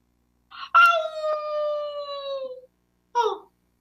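A child imitates a dog or wolf howling, giving one sustained, steady howl of about two seconds. It is close and clear, and brief yelping vocal bursts sound before and after it.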